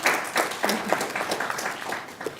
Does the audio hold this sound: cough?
no